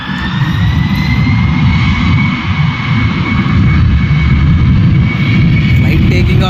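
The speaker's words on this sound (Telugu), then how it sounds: "Flight taking of." A jet airliner taking off near a college library in light rain, its engine roar loud, steady and broad throughout with a high whine layered on top.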